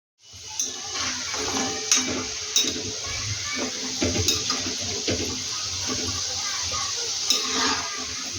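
Gudi sev deep-frying in oil over low gas, a steady dense bubbling sizzle with scattered crackles, close and continuous without talk.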